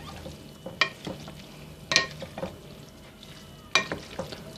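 Salad ingredients being tossed and mixed with spices, including black pepper, in a bowl: three distinct scraping, clattering strokes with softer rustles between, fairly faint and close, with no talking.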